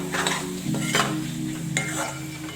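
A spoon stirs corn masala with tomato and red chili powder in a hot pan, giving a steady sizzle with scraping strokes at an even rhythm and no talking.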